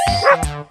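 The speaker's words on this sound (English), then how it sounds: "I am dog." A dog gives two quick, close barks in under a second, sharp and yippy, with nothing else around them.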